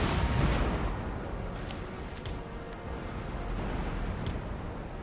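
Ship cannons fire a broadside in Empire Total War. A heavy booming blast opens the clip, and a rumbling wash of distant cannon fire and smoky roar continues at a steady level.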